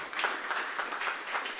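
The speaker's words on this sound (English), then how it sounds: "one last round of applause" Brief round of audience applause at the close of a developer talk on React Native, scattered clapping heard at moderate level.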